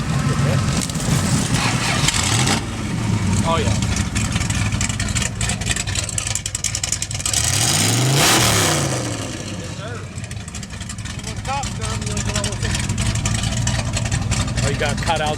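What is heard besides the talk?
pickup truck engine starting and revving through exhaust cutouts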